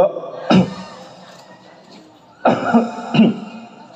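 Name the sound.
cough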